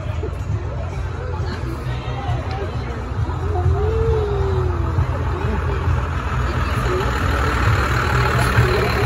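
A zombie-themed shuttle bus idles at a haunted attraction, its low steady engine rumble running under loud crowd hubbub and chatter throughout.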